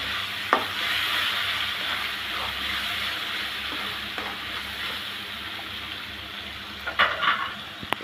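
Hilsa fish being stirred into fried spice paste in a pan for a lemon-leaf hilsa dish, giving a steady close sizzle with soft scraping stirs and a few sharper utensil knocks near the end.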